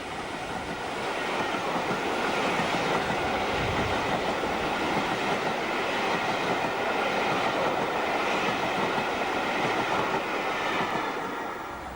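A Merchant Navy class steam locomotive, 35028 Clan Line, passes with a train bound for Bournemouth. A loud, steady, close rolling rumble of wheels and carriages fills the whole stretch without a break.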